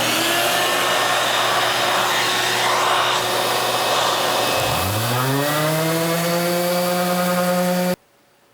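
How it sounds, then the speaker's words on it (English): An orbital sander fitted with 60 grit sandpaper, hooked to a shop vacuum, works over a table top with a loud, steady whine; its pitch dips briefly and then rises again before the sound cuts off abruptly near the end. "I have my orbital sander here with a 60 grit sandpaper on it"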